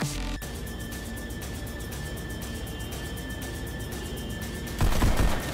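Rapid gunfire in the VR shooter Pistol Whip, a dense steady rattle of repeated shots over a music track, with a louder burst near the end.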